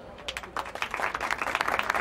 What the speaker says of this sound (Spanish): Pero si no he dicho nada, no hacía falta aplaudir.